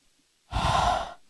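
A person takes one slow, deep breath, a close, airy inhale of about half a second against quiet surroundings, during a counseling session.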